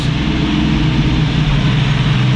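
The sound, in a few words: car engine idling with a misfire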